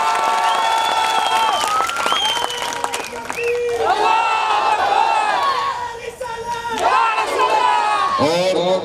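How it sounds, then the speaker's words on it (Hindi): Political rally crowd in Gujarat cheering, whooping and clapping after a candidate is announced, loud dense shouting with rising and falling cries, a brief dip midway, then renewed cheering. "जोर से ताली बजाओ।"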